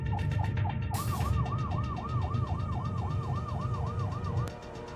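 In a Grozny traffic jam, an ambulance siren yelps in fast repeating sweeps over idling engines, with a short horn-like blast near the start. The siren cuts off just before the end.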